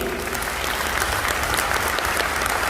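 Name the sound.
audience applause at a network marketing event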